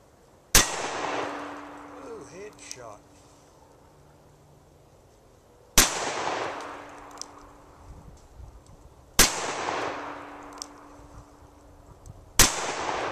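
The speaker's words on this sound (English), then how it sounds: "first shots, Taurus Model 82, chambered in 38 Special" A Taurus Model 82 revolver chambered in .38 Special fires four sharp shots outdoors, spaced several seconds apart, each a loud crack followed by a ringing echo that fades.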